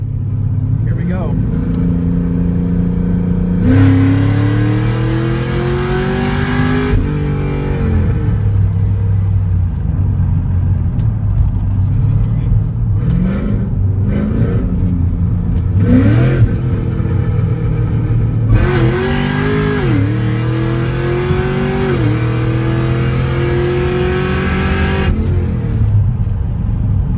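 A modified 2011 Cadillac CTS-V running on E85 roars through repeated hard full-throttle pulls, engine pitch climbing and dropping with each gear change, loud and close from inside the cabin.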